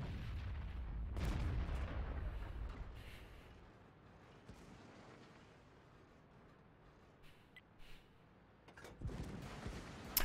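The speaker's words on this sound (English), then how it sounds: "you can hear all the rounds hitting at the back there" Tank shells booming and impacting in World of Tanks, with a thudding burst early on, quieter rumbling battle noise through the middle and more distant hits cracking near the end, no talking.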